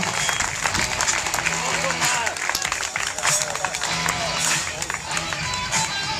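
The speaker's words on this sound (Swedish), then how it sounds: "Stora applåder!" A crowd applauds a runner at the Kalmar half marathon with dense, continuous clapping and scattered cheers, while an announcer talks over the noise.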